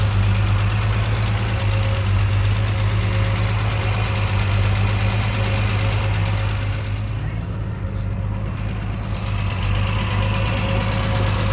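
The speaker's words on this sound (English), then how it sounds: "There's the engine." 1976 Triumph TR6 engine with triple SU carburetors and emissions components removed, idling steadily nearby with a loud, even low drone and faint knocking vibration throughout.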